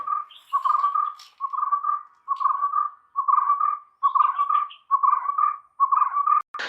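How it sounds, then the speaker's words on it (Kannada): Birdsong rings out alone in a quiet hilltop setting by a Jain temple, a chirping call repeated in regular bursts about every second. "ನೀವು ಕೇಳಿಸ್ಕೊಬಹುದು ಒಂದು ನಿಮಿಷ ಸೈಲೆಂಟ್ ಆಗಿರಿ ಎಷ್ಟು ಹಕ್ಕಿಗಳ ಕಲರವ"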